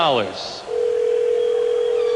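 A telephone line plays a steady, continuous dial tone that runs loud and close for most of its length, after a brief burst of speech and a short electronic chirp at the start.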